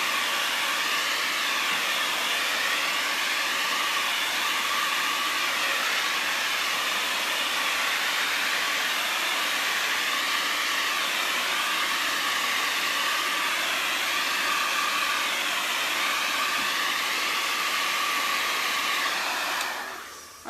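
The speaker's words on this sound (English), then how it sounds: "it's great to have a blow dryer nearby when you're painting with acrylic paint, because you can just hit it with the blow dryer" Hair dryer blowing steadily to dry acrylic paint during a live sunflower painting demo: a loud, continuous airy roar that holds for about twenty seconds, then cuts off at the end.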